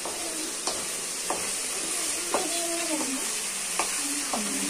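Mutton pieces sizzle and fry in a pan for a mutton curry, a steady hiss broken by several sharp scrapes and clinks of a stirring utensil at irregular intervals, close and fairly quiet.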